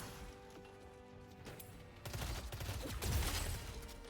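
Deadlock game combat erupts into a dense burst of rapid gunfire and crashing impacts after a quieter stretch, loud and continuous toward the end.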